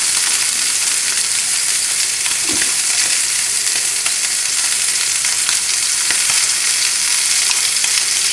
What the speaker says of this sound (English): going to get a nice little sear on the outside